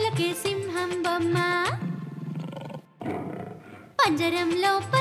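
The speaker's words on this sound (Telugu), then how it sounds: "₹20కి సింహం బొమ్మ" Lion roar used as a sound effect in a Telugu children's song, a rough rumbling growl lasting a couple of seconds, loud and close, set between sung phrases.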